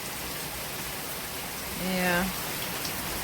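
Steady rain falls outdoors in Florida on orchids and plumeria, a continuous even hiss throughout, with a brief spoken word over it near the middle.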